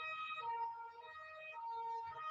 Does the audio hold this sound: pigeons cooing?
no